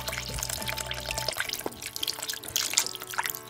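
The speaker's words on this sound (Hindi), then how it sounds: "प्याज को डालने के बाद इसमें पानी शामिल कर लूँगी आलुओं को गलने के लिए।" Water is poured into a pot of potato curry, aloo ka korma, with onions. It runs as a steady splashing trickle with scattered drips, close and moderately loud, and no voice is heard.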